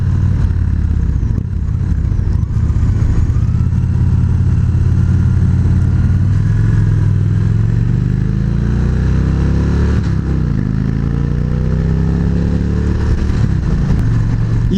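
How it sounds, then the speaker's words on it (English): A Victory Magnum motorcycle engine runs steadily and loudly close by, its exhaust droning and rising in pitch as it revs and accelerates. "You just want to hear that exhaust sing."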